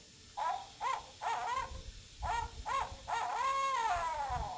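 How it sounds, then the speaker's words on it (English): A barred owl calls in a rhythmic series of loud hoots, two sequences of clipped notes each ending in a longer drawn-out hoot, close and clear over faint low background rumble. "So that is one of many calls of the barred owl."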